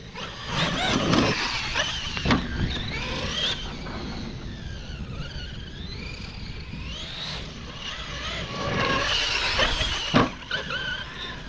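A 12S Traxxas X-Maxx RC truck, 40 lb, with a JConcepts body, drives fast outdoors, its electric motor whining and shifting pitch over rumbling tire and terrain noise, with a loud thump near the end.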